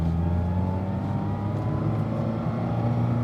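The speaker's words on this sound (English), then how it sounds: "I noticed that I started to have a bit of a transmission whine," Steady in-car drone of a Mazda Miata on the move, a continuous engine and drivetrain hum with a faint whine running through it, loud and even throughout with no talking.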